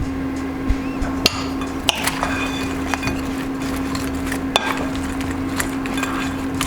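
Chicken wings are tossed in a dairy-free cashew-butter buffalo sauce, with soft wet stirring under a steady hum and several sharp clinks and knocks against the bowl.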